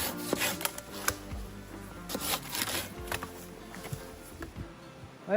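Firewood being cut up at a riverside wilderness camp, with repeated rasping, rubbing strokes of a saw through wood and woody knocks, close and moderately loud, with no talking.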